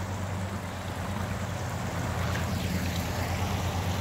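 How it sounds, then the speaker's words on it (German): The Ostbach stream in Herne runs into a tunnel at the start of its culverted section, a steady, dense rushing of water with a low rumble underneath, continuous and unbroken, with no voices. "Und der Bach unterquert in diesem Tunnel"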